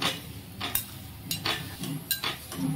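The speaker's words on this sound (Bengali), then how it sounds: "বেশি তেল দেবো না, অল্প তেল দিয়ে দিয়ে এটাকে ভাজবো।" Paratha cooking in a pan with a little oil: a few sharp scrapes and clinks from a spatula against the pan come in separate bursts, over a faint, low sizzle close by.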